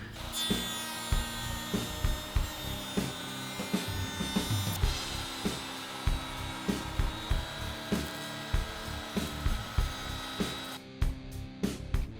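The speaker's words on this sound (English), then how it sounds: "I'm gonna use a rabbiting bit, and I'm just gonna go all the way around the perimeter of this bottom" A router fitted with a rabbeting bit cuts along the edge of a wooden panel for a sewing box bottom, producing a steady whining buzz with regular rhythmic bumps and scraping, ending in a few sharp knocks.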